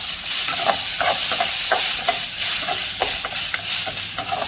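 Soaked lentils roasting in a pan: a close, steady sizzle and hiss with rhythmic scraping from stirring throughout.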